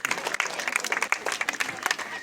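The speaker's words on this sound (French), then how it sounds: "Applaudissements" A crowd at a French Palestine-solidarity gathering claps in a brief, uneven burst of applause, with voices mixed in.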